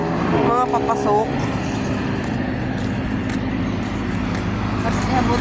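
Steady road traffic rumbles past, cars and trucks passing in a continuous wash of engine and tyre noise; a voice speaks briefly near the start.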